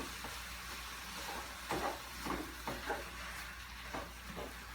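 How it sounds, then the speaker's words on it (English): Onion and ground beef cook together in a skillet for sloppy joe barbecue sandwiches, giving a faint steady sizzle broken by a few soft stirring scrapes; no voices. "It's always nice to let that onion cook with the beef."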